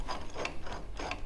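A ratchet clicks in quick, close bursts as nuts are snugged onto a steering wheel puller on an old International Cub Lo Boy tractor. There is no talk.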